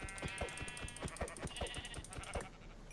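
Repeated sheep bleats in the video game Minecraft, several short evenly spaced calls close up over a steady background.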